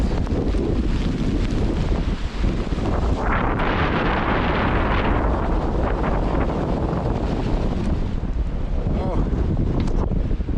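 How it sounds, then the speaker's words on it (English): Strong wind buffets the microphone while a sailboat pushes through heavy waves in about 25 knots of wind off the inner coast of Norway, a loud continuous roar with surging water throughout. "big heavy waves."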